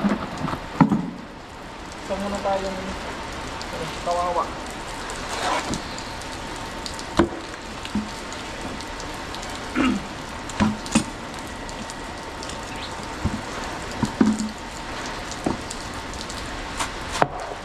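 Heavy rain falls steadily, with a continuous hiss and scattered sharp drops and knocks on surfaces nearby, and a voice speaks briefly near the start.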